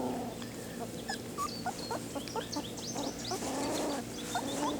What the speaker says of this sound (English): They're all being puppies. You hear them grunting.